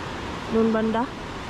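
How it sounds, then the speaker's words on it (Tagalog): Strong ocean waves roll onto a white sand beach strewn with rocks, a steady broadband wash of surf close by, while a voice briefly speaks over it. "Nakakatakot yung alon dun, oh."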